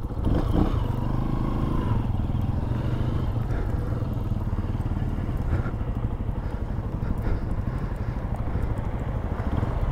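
A small-bore motorcycle is ridden with a steady chugging engine note, downshifting and revving throughout, loud and close with a rattling mechanical rhythm and no talk.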